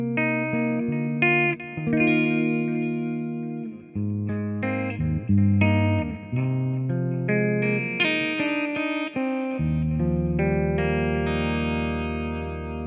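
Clean electric guitar played through a TC Electronic Jims 45 pedal into a Marshall SV20H amp: a phrase of chords and single notes with bright sustain, loud and alone with no talk.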